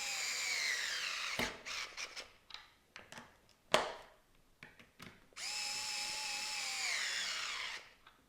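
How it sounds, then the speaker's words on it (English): A small power drill drives screws into IKEA furniture, with two long whirring runs at the start and end and short bursts, clicks and knocks between them, close and otherwise quiet. "I'm really glad for this little drill."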